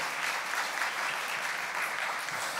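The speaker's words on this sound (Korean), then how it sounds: "우리 큰 박수로 환영하겠습니다" A church congregation at a Sunday service claps to welcome new members: brisk, continuous applause filling the room at a constant level, brief and unaccompanied by speech.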